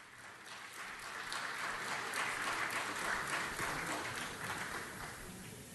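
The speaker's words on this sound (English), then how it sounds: "Let's give him another round of applause." An audience at a Los Angeles council meeting applauds steadily for several seconds, a moderate, even wash of clapping that swells slightly in the middle and holds without talk.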